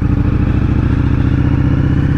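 An Indian Scout Bobber motorcycle fitted with an aftermarket Indian 2-into-1 exhaust runs close by, a loud, steady, throbbing V-twin rumble with an even pulsing beat.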